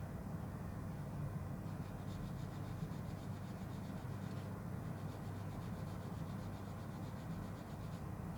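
Sandpaper of a finer grit rubs back and forth over cured CA glue, a close, steady scratchy rasping that continues without pause and has no talk over it.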